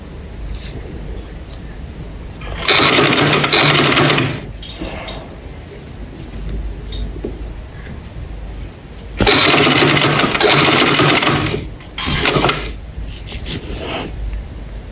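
A sewing machine stitches patchwork fabric scraps into a kitchen curtain, running in two long loud bursts and a shorter one, with quieter handling and room noise in between.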